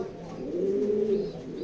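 A racing pigeon in a loft gives a single close, soft, throaty coo that rises and falls over about a second, with faint voices around it.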